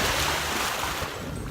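Ocean surf washes steadily onto a beach in Sanya, a broad continuous rush of breaking waves close by with some wind noise and no voices.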